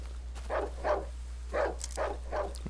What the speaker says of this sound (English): Why are there so many dogs around here, bro?